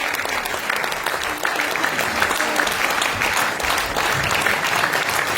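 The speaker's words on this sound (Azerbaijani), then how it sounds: "Daha gürültülü alqışlar." Audience applause at a Shirvan saz folk music event as the ashiqs and singers take the stage, steady dense clapping filling the hall throughout with faint crowd noise underneath.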